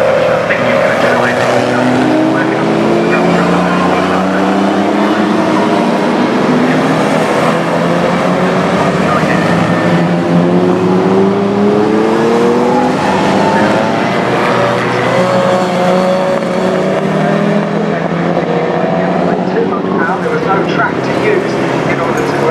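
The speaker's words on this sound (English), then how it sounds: "it looks like Richard Skinner in the Marcos has managed to squeeze himself ahead of John Davis and TVR off through the gravel trap" Marcos, TVR and Mustang race cars roar around the Brands Hatch circuit, engines loud and continuous with rising and falling revs as they pass, while a commentator talks over the racing.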